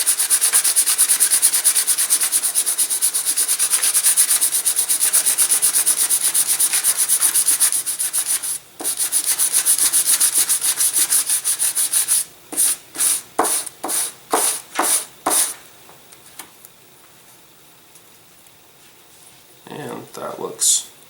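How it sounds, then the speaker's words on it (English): Sandpaper rubs by hand on thin wooden propeller blades for a small model airplane: a long, continuous scratchy sanding stretch, then a series of short rhythmic strokes, ending in quiet. "And I hit them with some sandpaper. Just bring them down the thickness."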